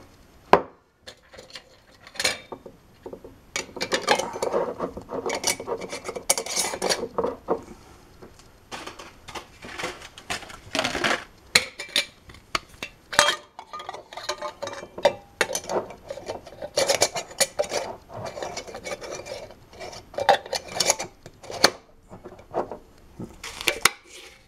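Lids clatter and scrape onto hot glass jars of agar, a long run of irregular close knocks, taps and rubbing clinks with brief pauses between.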